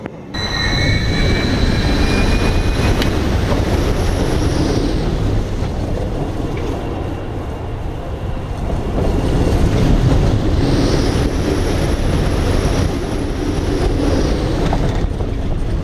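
The Full Throttle roller coaster running at Six Flags Magic Mountain, a loud continuous rumble and rattle of the train on the track with high metallic wheel squeals rising and fading, heard up close with no talking.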